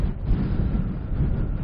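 Wind buffets the microphone in a steady low rumble on open moorland at Bursdon Moor, loud and continuous for a short moment with no voices.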